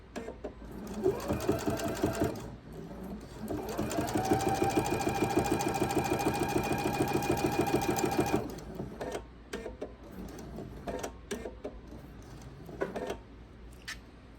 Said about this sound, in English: And now I'm going to sew up to that mark